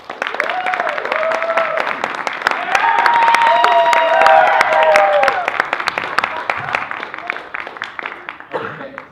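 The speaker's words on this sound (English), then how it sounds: "can you guys give the rest of Work in Progress a round of applause while they come out?" Audience applause at a live improv show, a dense burst of clapping with some cheering that swells in the middle and then thins toward the end, heard without talk.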